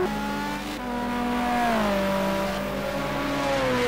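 Aston Martin race car in a sim racing game, its engine note dropping through short-shifted gears as it slows for a hairpin on the last lap; a steady, close, sustained drone with pitch steps and no voices.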